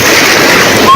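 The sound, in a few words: tsunami waves hitting the coast in Tonga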